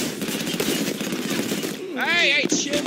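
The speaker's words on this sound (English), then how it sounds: "Stop shooting at me, you prick." Rapid gunfire during a Halo 5: Guardians multiplayer match, a dense crackling stream of shots in the game mix that someone talks over briefly near the end.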